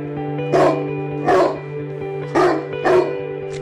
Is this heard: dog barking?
yes